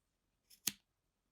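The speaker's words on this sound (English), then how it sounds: "you can take your scissors and we're just going to trim those short ends" Two quick, soft snips of scissors trimming yarn ends close by, the second crisper than the first, in otherwise near silence.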